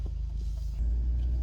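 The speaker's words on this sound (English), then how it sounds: "starting it up, I'm going to take the K5 for a drive" A Kia K5 GT engine catches and settles into a low, rumbling idle, the deep hum swelling slightly partway through, heard close from the cabin.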